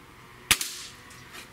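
A single sharp crack from a Gamo Swarm Magnum .30 caliber air rifle firing an 18.13 grain pellet, close and loud, followed by a quick metallic echo and a faint trailing thump.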